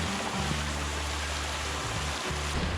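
Water runs steadily from an artesian well beside Highway 4 on the way to Tofino, British Columbia, a continuous close rushing flow with a low rumble underneath.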